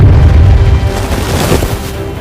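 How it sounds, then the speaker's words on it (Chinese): Aerial bombing from German warplanes over the Dunkirk beach in a war film, a loud, deep rumbling boom that rolls and fades slowly into low reverberant noise. "轰炸结束后，汤米再次侥幸活了下来"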